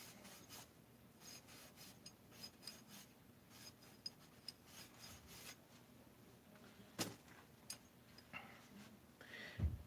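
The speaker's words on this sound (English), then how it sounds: "Hit this with just a little bit of Scotch-Brite. Make sure it's shiny." A Scotch-Brite pad scrubbing a Stihl 026 chainsaw crankcase, a quiet, close, rasping rub in short repeated strokes with a few sharper knocks.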